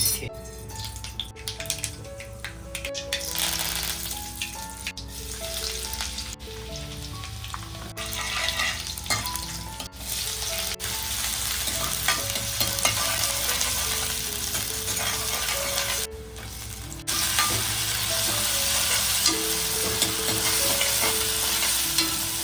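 Cumin and mustard seeds crackle and sizzle in hot oil with frequent stirring and clinking against the pan, while soft music plays in the background.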